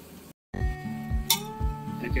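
Puli pitha frying in hot oil, a close bubbling sizzle with metal utensil clinks and scrapes as the dumplings are lifted out, one sharp clink standing out, after a brief silent gap at the start.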